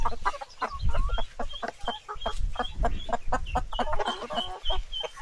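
Several chickens clucking and squawking nearby in a busy, overlapping chorus.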